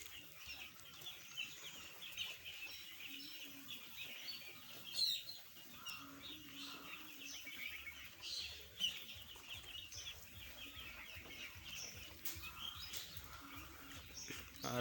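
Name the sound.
8-day-old broiler chicks in a poultry shed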